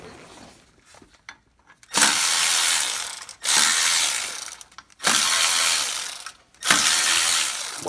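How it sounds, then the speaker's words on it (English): A ratchet breaks torque on the water pump pulley bolts of a Ford F-150 3.5L EcoBoost, giving four close, loud bursts of rapid clicking separated by short pauses. "So let's go ahead and break torque on all these bolts."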